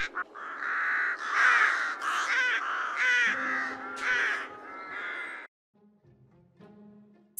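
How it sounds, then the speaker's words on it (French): Cawing of a flock of crows flying over a house in the Roblox game Brookhaven, a dense, loud run of overlapping calls for about five seconds before dropping to a faint low background. "tous ces oiseaux là qui sont en train de voler au-dessus de la maison"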